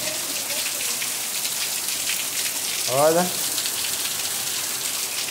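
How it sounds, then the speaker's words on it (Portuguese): Heavy rain pours down in northeastern Brazil, a dense steady hiss of drops on surfaces that lasts throughout, with someone briefly speaking over it. "Chuva forte."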